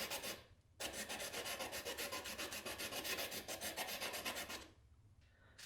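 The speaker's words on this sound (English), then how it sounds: "have like a little wooden block like this one, where you can kind of bend your sandpaper around and get into places where it's not as easy" Sandpaper wrapped around a small wooden block rubs back and forth over a quadcopter part in steady, rapid rasping strokes, close and continuous for about four seconds before stopping, with no voices.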